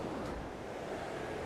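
A woodland river, the Plym at Dewerstone, rushes in a steady, close broadband wash of flowing water, continuous and even with no voices.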